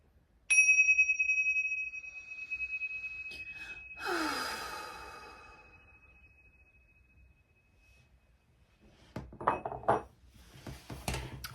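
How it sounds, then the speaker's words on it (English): During tarot space-clearing, a single chime is struck once and rings out clear and bright for several seconds. A breathy sigh follows, then faint rustling handling sounds near the end. "and we'll do a chime"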